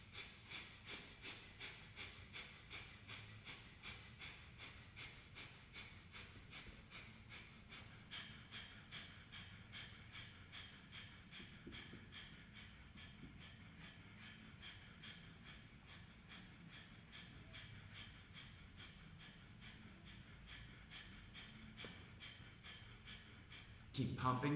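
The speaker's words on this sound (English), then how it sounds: "let's begin breath of fire for 2 minutes here" Rapid kundalini yoga breath of fire, with soft, even, forceful exhalations pumping at about two per second for the whole stretch, quiet and close with a steady rhythmic pulse.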